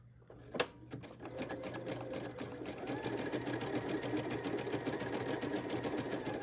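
A sewing machine runs a 3-step zigzag stitch, starting with a click and then running in a steady, fast, rhythmic clatter close by, with no talk.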